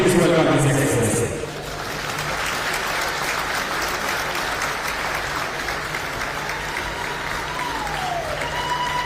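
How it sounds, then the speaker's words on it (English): An audience at the opening of the AfriCities 9th Summit in Kisumu, Kenya, gives a loud burst of applause to welcome the President, then sustains a steady wash of clapping, with a voice over the crowd. "With a round of applause"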